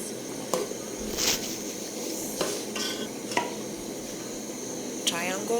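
Mandazis fry in hot oil with a moderate, steady bubbling sizzle, broken by several sharp scrapes and clinks of a utensil turning the dough.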